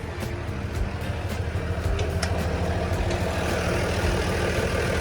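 The diesel engine of a Komatsu WA200-1 wheel loader idles steadily at close range, a constant low rumble with a faint rhythmic ticking on top and no talking.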